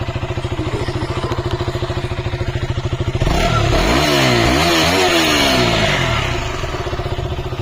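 Used motorcycle engine started, a loud close putter of rapid firing pulses, then revved up and down in sweeping surges before settling back to a steady idle.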